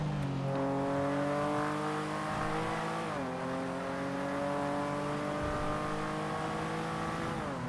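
A car engine in a video game drones steadily at constant loudness, its pitch holding level with a brief dip and shift around the middle and another near the end, with no talking.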